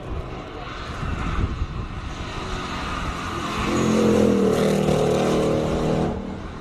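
Race cars compete at the Cape Town hillclimb, among them a V10 BMW M5 and a Mustang Mark 1, with a broad engine roar that swells into a louder, higher revving howl as one car passes.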